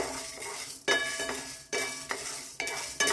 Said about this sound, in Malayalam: ഒരു പാൻ വെച്ച് അതിലേക്ക് ഞാൻ ഉഴുന്ന പരിപ്പിട്ട് കൊടുക്കുന്നു.